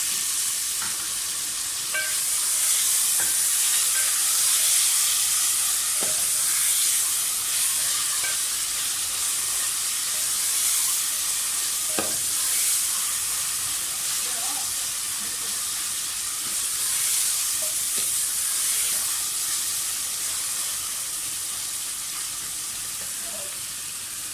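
Chopped green chillies fry in a hot pan while mutton masala is being cooked, giving a steady, close sizzle with occasional stirring clicks and scrapes that runs throughout without any talking.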